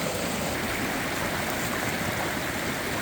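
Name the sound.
mountain stream water rushing down over plunge pools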